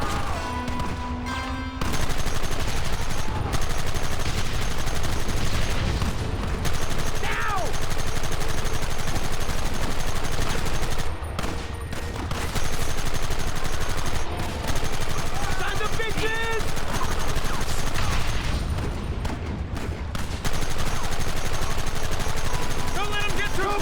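Shootout gunfire in Red Dead Redemption, with sustained rapid volleys of rifle and pistol shots cracking nearly nonstop over about twenty-four seconds, broken by brief pauses and shouted voices.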